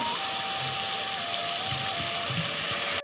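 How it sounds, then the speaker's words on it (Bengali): Water streams steadily into mutton masala in a pan for several seconds, a close, continuous gushing pour that stops abruptly at the end, with no voices. "আমি এখানে সামান্য জল দিয়ে ভালো করে কষিয়ে নেব"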